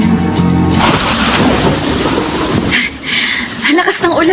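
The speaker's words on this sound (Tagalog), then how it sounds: "Lakas ng ulan." Heavy rain pours down with deep rumbling thunder in a loud, continuous wash, with a brief tonal sound at the start and faint voices near the end.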